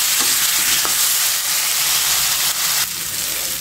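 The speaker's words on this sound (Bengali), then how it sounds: "এখন আমি এটা দিয়ে সুন্দর করে কষিয়ে নেব" Onion and green chili paste sautés in a pan, a loud, continuous sizzle and hiss with scraping stirs, the sound briefly dipping as the mixture is moved.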